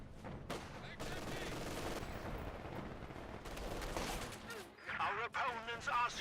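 Sustained automatic gunfire from a Thompson submachine gun in the World War II strategy game Company of Heroes 2, with rapid bursts running steadily through a dense battle mix of other small-arms fire, heard under game commentary.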